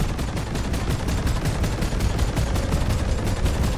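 Rapid automatic gunfire in the co-op video game Deep Rock Galactic, loud and close, a dense rhythmic stream of shots filling the whole stretch with no speech.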